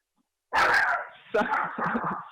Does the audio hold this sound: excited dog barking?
yes